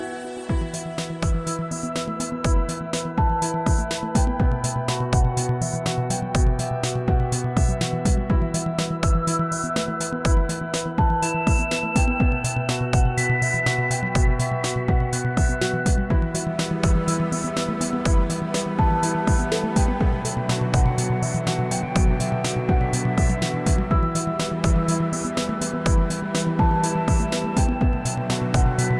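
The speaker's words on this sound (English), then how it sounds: "in the ski club opposite is a big party, so if you can hear the music, it's not us." Dance music drifts over from a big party at a ski club across the way, a steady driving beat with melodic synth lines that holds at an even level for the whole stretch, with no talking over it.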